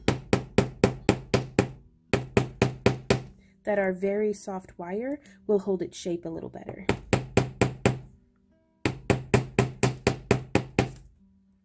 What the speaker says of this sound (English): I'm going to come through in caution, loud noises, and hammer just lightly